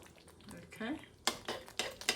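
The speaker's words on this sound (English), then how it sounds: "Give it a stir so the tomatoes are well coated with all the gravy." Stuffed tomatoes get stirred in gravy in a pan over low heat, giving a few soft scrapes and sharp clinks of a spoon against the pan, quiet and close with no talking.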